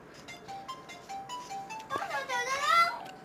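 A phone rings with a looping electronic melody during a Minecraft play session, steady tonal beeps at first, then a brighter warbling tune swelling louder toward the end, with faint background noise throughout.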